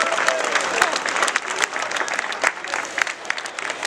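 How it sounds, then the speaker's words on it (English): A crowd applauds firefighters at a CFA recruits' car fire demonstration, dense continuous clapping with sharp individual claps popping out over an outdoor wash of hands for several seconds. "Give them a big round of applause"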